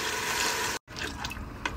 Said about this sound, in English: All right, add a cup of water.